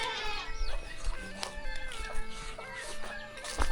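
Chickens cluck and squawk repeatedly in a rural hill village, several birds calling close by in overlapping bursts against quiet outdoor ambience.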